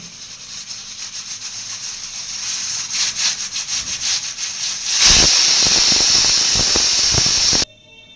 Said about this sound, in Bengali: এই তিনটে সিটি দিয়ে, আগে একটা দিয়েছি, এই একটা আর একটা সিটি দিয়ে নামিয়ে দেবো।